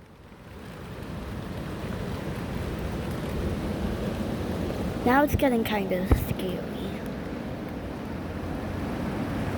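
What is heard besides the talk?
strong wind and rain storm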